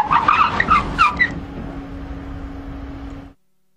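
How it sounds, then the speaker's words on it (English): A Monroe-equipped car stops hard under ABS from 80 km/h in a collision avoidance test on a track: squealing, chirping tyre bursts give way to a steady tyre hum that fades and cuts out. "The Monroe car now completes the collision avoidance test at 80 km an hour."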